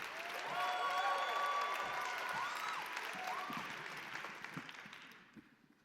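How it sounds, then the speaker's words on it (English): Audience applause at a poetry slam final in a large concert venue, a dense wash of clapping with some cheering that fills the room and slowly thins out toward the end. "Keep the applause going."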